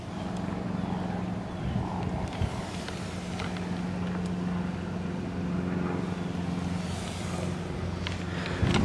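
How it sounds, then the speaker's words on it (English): A Nissan 240SX engine idles through a 3-inch blast pipe exhaust, a steady low rumble with faint background noise and no talk. "let me just go ahead and show you guys the exhaust that I had them put on"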